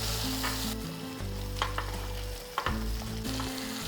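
Chopped garlic, four to five cloves, sizzles in a pan while being gently stirred, a soft continuous fry with a few light spatula clicks and scrapes, close and quiet.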